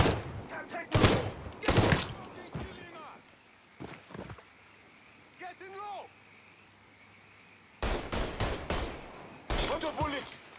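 Bursts of gunfire from the Mafia III video game, loud volleys at the start and again near the end with a quieter stretch between, rapid shots overlapping shouted voices.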